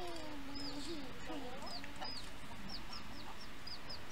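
A chicken clucks in The Sims 4 Cottage Living, with a few low throaty clucks at first, then a run of quick, high chirping clucks over quiet game ambience.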